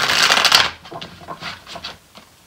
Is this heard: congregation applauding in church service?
no